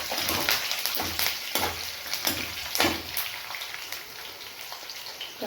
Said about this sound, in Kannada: ಈಗ ಕರಿಬೇವು ಹಾಕ್ಕೊಂಡು ಫ್ರೈ ಮಾಡ್ಕೊಳ್ಳಿ